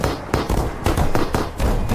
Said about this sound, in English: followed by roaring gunfire